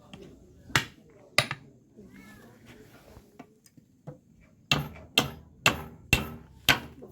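Nails hammered in at a house under construction: a couple of sharp blows, then quiet activity and soft voices, followed by a steady run of six loud, close hammer strikes.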